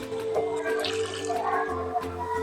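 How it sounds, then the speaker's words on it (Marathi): Water is poured into spiced mixed vegetables in a cooking pan for hotel-style veg kolhapuri. A brief, soft splash and trickle sits over a steady background hum. "थोडंसं पाणी घालते आणि"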